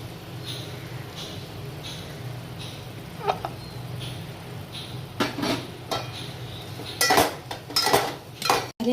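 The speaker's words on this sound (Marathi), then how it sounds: "आता आपण ह्यामध्ये वेलची पूड टाकायची आहे थोडीशी आणि ती आपण मिक्स करून घ्यायचं आहे" Cardamom powder is stirred into shira in a metal pan, with a faint sizzle at first and then louder scraping and clinking of the spoon against the pan, close up and without talking.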